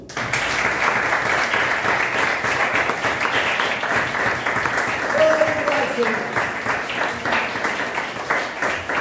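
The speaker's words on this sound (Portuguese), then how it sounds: "Vamos dar uma salva de palmas, Senhor." Church congregation giving a round of applause, many people clapping steadily for several seconds, with a voice briefly calling out over the clapping.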